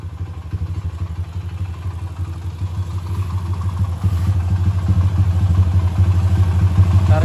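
Motorcycle with an engine over 200 cc running up close on a test ride, a steady low throbbing hum that grows louder and rougher toward the end, with no talk.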